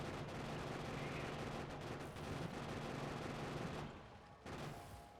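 Rapid turret gunfire in the factory-building game Factorio, a dense continuous stream of shots at low level for several seconds, easing slightly near the end.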